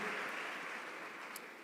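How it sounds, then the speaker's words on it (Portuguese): Church congregation applauding during a Portuguese-language sermon, a steady broadband wash of clapping that holds evenly for the whole stretch, fairly soft and distant with no voices over it. "E a igreja pode glorificar a Deus, aplaudindo ao Senhor e sentando."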